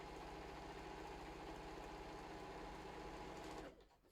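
A sewing machine fitted with a new quarter-inch foot stitches in a steady, close, continuous whir for several seconds, then stops abruptly near the end.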